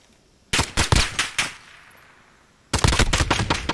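Rapid pistol gunfire in a Call of Duty Modern Warfare gunfight match: a burst of five loud, sharp shots, a short pause, then a second quick volley of close shots.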